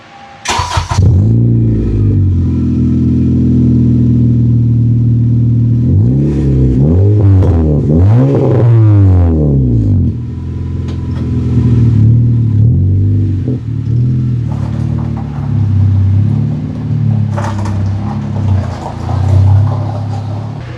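A 2013 Honda Civic Si pulls out of a garage, its engine loud and close, rising and falling through several revs and idle stretches.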